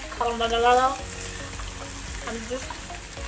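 Onions cooking in a hot pan for caramelizing, a steady close sizzle with a brief stir partway through, while someone talks over it.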